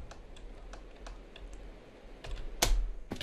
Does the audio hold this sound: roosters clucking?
no